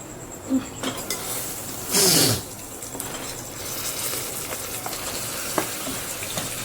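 Marinated mutton tipped into a pan of deep-browned fried onions, giving a brief burst of sizzle and a clatter of utensil against the pan, then a steady low frying hiss.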